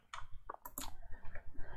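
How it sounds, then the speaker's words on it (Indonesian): Computer keyboard keys are pressed in a few sharp, close clicks spread irregularly over about two seconds, quiet and isolated, with no speech. "Jadi nanti ketika saya pencet tombol keyboard"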